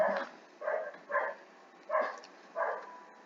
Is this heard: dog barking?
yes